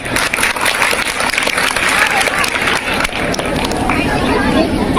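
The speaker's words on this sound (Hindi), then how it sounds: "तो प्रोग्राम शुरू करने से पहले इनके लिए जोरदार तालियां बोले बजाइए।" Sustained applause from a large crowd at a madrasa's Republic Day event, steady and loud, with general crowd noise mixed in throughout.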